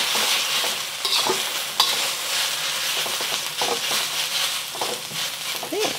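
Soy sauce chow mein noodles stir-fry in a hot wok with a steady, close sizzle, broken by occasional scraping and tossing clatter from the spatula.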